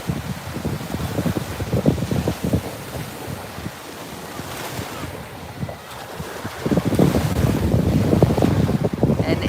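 Wind buffets the microphone on a beach at Lauderdale-by-the-Sea, Florida, with surf washing in continuously, loud and gusty, easing slightly midway before swelling again; no one speaks.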